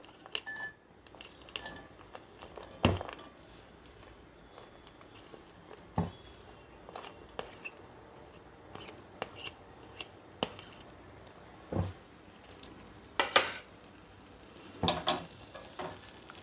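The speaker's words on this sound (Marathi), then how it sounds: "कांदा परतून घ्यायचा आहे।" Onion sautéing in a teaspoon of oil in a pan on a gas stove for a black-eyed pea and potato curry, a soft steady sizzle broken by several sharp spatula scrapes and clinks against the pan.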